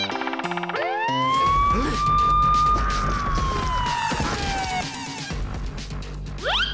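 A police siren from the Garten of Banban video game sweeps up into a long rising and falling wail after a brief musical intro, loud and close, ending with a crash-like impact and another rising tone.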